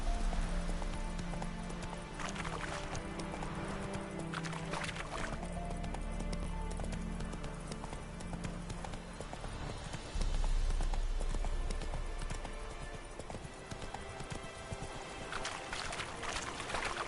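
Roach the horse gallops steadily in The Witcher 3, hooves clip-clopping in a rapid, even beat, close and loud over continuous game ambience and music, with a shift in the middle.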